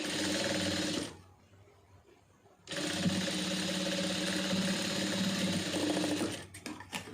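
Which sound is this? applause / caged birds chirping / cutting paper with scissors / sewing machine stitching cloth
sewing machine stitching cloth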